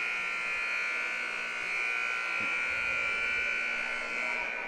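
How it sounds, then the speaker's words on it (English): A long, steady electronic buzzer at the end of a youth hockey game drones continuously without a break, loud and sustained, with faint crowd noise beneath. "that's the longest buzzer I've ever heard"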